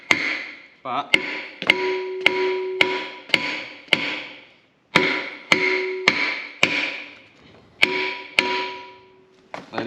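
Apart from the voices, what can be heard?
hammering part on during Albion Super Reiver restoration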